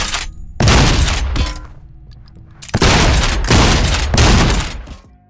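Video game gunfire in loud, dense bursts of rapid shots separated by short pauses, each volley ringing out with sharp close impacts and no voices.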